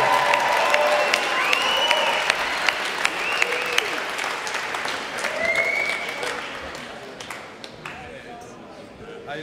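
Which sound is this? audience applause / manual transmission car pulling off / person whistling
audience applause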